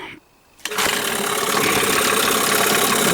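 A Hangkai 9.8 outboard boat motor, run in a barrel, sputters to life after a brief quiet moment, then settles into a loud, steady idling drone close by.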